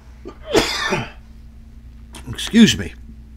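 A person coughs and sneezes twice, a burst of throaty noise early on and another pair of explosive bursts later, close and fairly loud against a faint steady hum.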